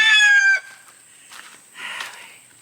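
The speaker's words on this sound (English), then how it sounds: "And that is the new rooster." A new rooster in a chicken coop gives a short, loud crow that breaks off after half a second, followed by faint, scattered clucking farther away.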